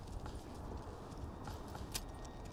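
Horse hooves clip-clop softly in the Manor Lords video game, a faint steady patter set against a constant hum of background ambience.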